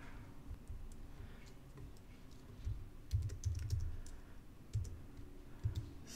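Code is typed on a computer keyboard in quick irregular bursts of close clicking keystrokes, pausing briefly between flurries, with no voices.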